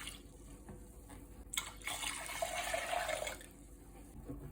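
Apple cider vinegar poured from a container for cucamelon pickle brine, a soft, close liquid stream that swells for about a second and a half and then stops, in a quiet kitchen.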